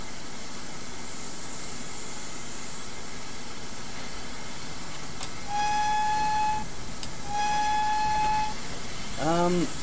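A train in Train Simulator 2019 rumbles steadily with a constant hiss, then two long horn blasts sound and a rising squeal ends it; no voices.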